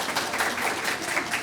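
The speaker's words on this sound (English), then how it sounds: "So if you make a round of applause," An audience at a Gold Standards Framework conference event gives a round of applause, dense, steady clapping from many hands filling the room without a break.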